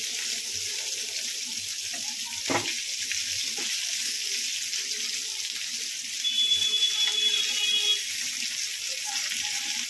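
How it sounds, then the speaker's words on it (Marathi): Pomfret fish frying in a pan over a high gas flame, giving a steady broad sizzle with occasional soft clinks and a brief louder burst, without any talk. "आता फास्ट गॅस करून मस्त फ्राय करून घेते"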